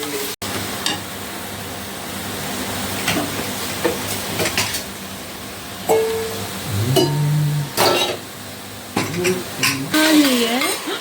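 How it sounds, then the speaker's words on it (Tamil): Masala being stirred into sautéed vegetables in a pot for vegetable biryani: scraping spoon strokes and metal clinks over a steady sizzle, with people talking nearby in between. "இது நல்லா வதங்கின பிறகு அதோட கூட இப்போ அந்த மசாலாவை போட்டு கிளற போடுறோம்"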